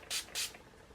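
Two quick bursts of makeup setting spray mist, close and hissy, each lasting about a tenth of a second with a short gap between them.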